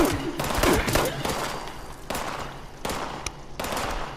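Gunfire from above in the video game Fallout 76: repeated bursts of sharp shots in quick clusters, loud and close, with brief gaps between volleys.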